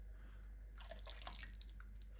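Water being poured into a slow cooker around a seasoned gammon joint, a soft close trickling and dripping burst that rises midway and fades, over a low steady hum.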